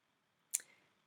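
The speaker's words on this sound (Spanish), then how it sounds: "hacemos un clic aquí" A single sharp computer mouse click lands alone in near silence, crisp and close, with a faint short tail after it.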